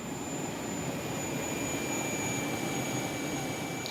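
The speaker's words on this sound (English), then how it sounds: "With a gas turbine engine, they sound more like a jet fighter than the old diesel-powered tank." A steady, loud gas turbine tank engine roar with a high whine running throughout, like a jet engine idling nearby, with no voices.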